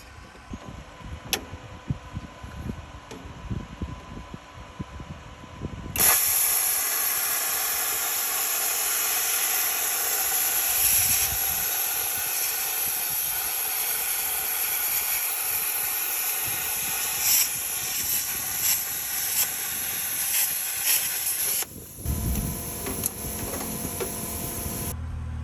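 Welding along the water bay wall seams of a 1983 Newell RV under restoration: a steady, loud crackling hiss runs continuously for about sixteen seconds after softer shop noise, then stops, leaving quieter clatter.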